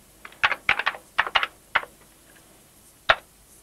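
Keys on an Amiga computer keyboard clack as a name is typed, a quick burst of close, crisp taps followed by one isolated final keystroke, with no talking.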